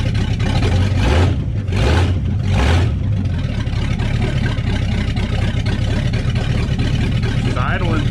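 A Ford 390 FE V8 in a 1966 Galaxie cranks and fires, with a few rhythmic starter-like surges before settling into a loud, steady rumbling run; a voice briefly speaks near the end.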